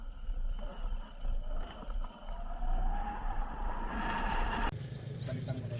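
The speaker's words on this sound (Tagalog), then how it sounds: "Buti na lang kayang-kaya ng motor." Motorcycle ridden along a rough, deep-rutted rural road near Pasacao, Camarines Sur, its engine droning steadily and close with rumbling road noise, then a sharper change in tone near the end as the surface shifts.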